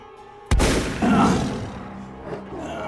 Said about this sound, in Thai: ก็มีเสียงปืน ดังรัวขึ้นในหมู่บ้าน